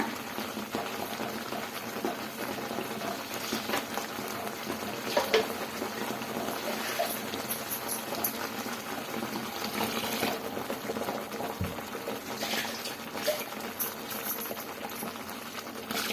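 Water is poured into a hot pot while making chicken curry, giving a steady, even bubbling hiss that runs throughout with no one speaking.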